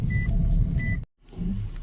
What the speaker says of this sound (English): Let me park my car somewhere here under the tree.